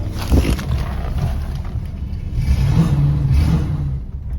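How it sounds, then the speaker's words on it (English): A 1963 Cadillac Coupe DeVille V8 with an uncleaned carburetor idles steadily, a low rumbling drone with slight fluctuations, heard close with no speech. "No smoke, idles pretty well."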